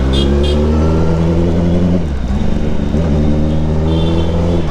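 A Kawasaki ZX10R superbike ridden through heavy traffic makes a loud, close, steady engine drone that dips briefly midway, then holds its low throbbing tone.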